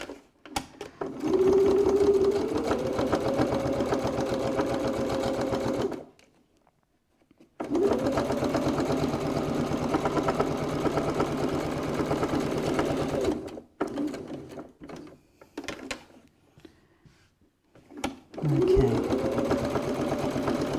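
A sewing machine stitches close to the edge through layers of wallet fabric and lining in three steady runs. Its motor hums and whines in long stretches, with short pauses between them.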